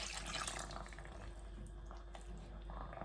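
Water running and splashing into a pot of Jamaican cornmeal porridge, a soft continuous trickle with light drips, fairly quiet.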